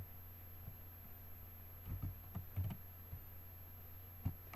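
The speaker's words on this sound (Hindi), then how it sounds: "मैं टेक्स्ट बॉक्स इंसर्ट करती हूँ और उस कलर का जो है वो नाम टाइप कर देती हूँ।" Close keys clicking on a computer keyboard in short, uneven bursts as a color name is typed into a text box, with a steady low hum behind and no talking.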